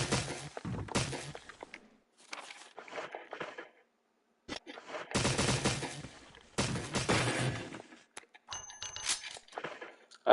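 Resident Evil REbirth, the 2002 Biohazard remake played as Jill Valentine: bursts of gunfire and clinking weapon-reload sounds in a game, a loud cluster early, then scattered clanks and metallic rings with short silent gaps.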